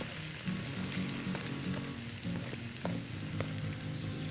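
Ginger and onion sautéing with beef in hot rendered fat for Ilocano kilawin: a steady, close sizzle and crackle in the pan with occasional stirring scrapes, no talking.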